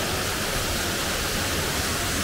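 Steady, loud broadband roar of the Kurotaki (Black Falls) waterfall at Arima, Japan, heard up close as continuous rushing water with no voices.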